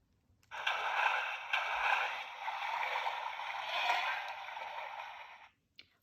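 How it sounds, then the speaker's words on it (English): A baby elephant plays and splashes in lake water, a continuous rushing splash with rough snorting texture lasting about five seconds before stopping, with a brief click afterward. "Down by the lake, a baby elephant is having fun in the water."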